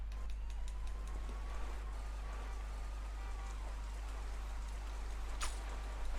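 Rain falls over a city harbor in the video game Wave Race: Blue Storm as a soft, constant patter and hiss, with a low steady hum underneath and a sharp brief splash-like burst toward the end.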